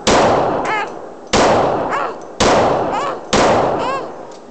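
Four loud gunshots at an outdoor gun range, evenly spaced about a second apart, each a sharp close blast followed by a ringing metallic tail.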